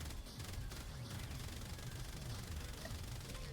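Rapid automatic gunfire from a video game weapon firing heat-damage bullets, a dense continuous stream of shots without pause, quiet and steady throughout.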